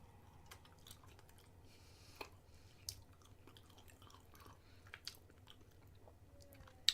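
Soft, quiet chewing of a Milky Way Simply Caramel chocolate bar, moist mouth sounds with a few small crisp clicks and bites spread sparsely over a faint background.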